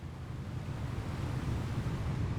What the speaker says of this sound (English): These are not big waves, but they're making big impact